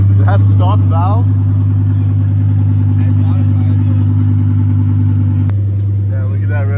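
A car engine with stock valves is held at a loud, sustained high rev close by, a steady droning roar with voices talking over it and a brief dip near the end.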